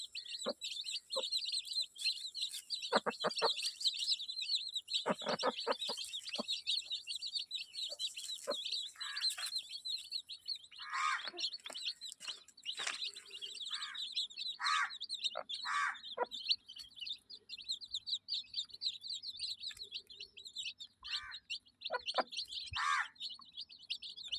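High chirping of desi chicken chicks runs throughout, with a mother hen's low clucks and scattered pecking taps at scattered grain, fairly quiet and close.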